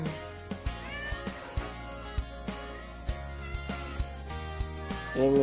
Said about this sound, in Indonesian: Kucing-kucing yang comel